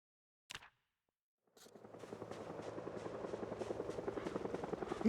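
Helicopter in a video game: a rotor roar swells in after a short thump and builds to a steady, loud, chopping drone that grows through the end, with no talk over it.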